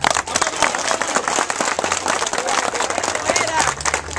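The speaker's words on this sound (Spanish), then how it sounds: "Vamos a dar un aplauso" A crowd applauds at an outdoor community gathering, with dense, energetic clapping filling the whole moment and voices talking over it.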